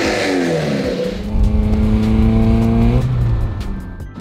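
A Mercedes-Benz CLK accelerating on the road, its engine revving loud and close with rising harmonic tones through several climbs, then settling back.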